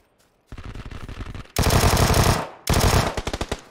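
Rapid automatic gunfire crackles in loud, close bursts during an online shooter match, three rattling volleys with brief gaps between them.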